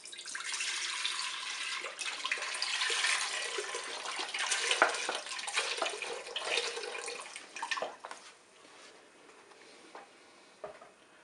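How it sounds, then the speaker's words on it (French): Milk poured into the tank of a dessert maker makes a steady, fairly close liquid pour that runs for about seven seconds, then thins to quieter trickles and small knocks. "On verse tout simplement le lait dans la cuve."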